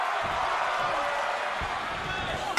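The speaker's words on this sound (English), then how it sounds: "listen to this capacity crowd behind Sharia" A packed capacity arena crowd roars steadily in WWE 2K22 wrestling, a dense continuous wash of cheering and murmur filling the space, with no single voice standing out.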